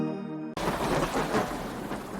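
A thunderstorm with rain: after a short musical tone, a loud rumble of thunder breaks in over a dense, steady hiss of falling rain that fills the rest of the moment.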